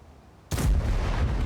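A tank cannon in World of Tanks fires once, a sudden loud boom after a short quiet lead-in, followed by a sustained heavy rumble and reverberation that fills the rest of the moment.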